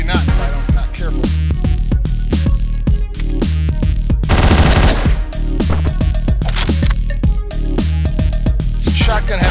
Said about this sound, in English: This shotgun has two shots.